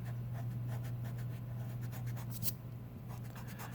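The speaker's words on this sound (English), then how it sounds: "So I'm going to go in here and erase this." An eraser rubs back and forth over a pencil drawing of bubble letters on paper, producing quiet, close, scratchy strokes in a quick irregular rhythm over a low steady hum.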